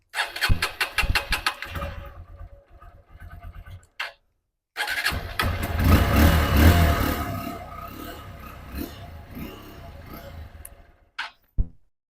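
A Honda XR150L motorcycle engine cranks and catches, then settles into a loud, steady idle up close before cutting off, with a couple of sharp mechanical clicks at the end.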